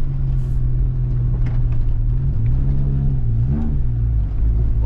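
A Honda Civic wagon with a D16 engine drives over snow and hard ice, its engine a close, steady low drone that rises and dips in pitch as the revs change, with no talking.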